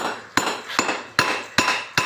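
Five sharp metallic hammer strikes at a steady pace on ten-wheeler truck brake parts, loud and close, each ringing briefly before the next blow.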